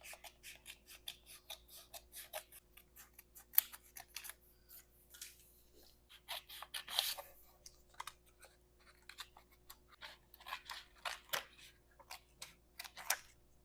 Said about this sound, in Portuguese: agora é só terminar de cortar aqui o novo traço do centro costas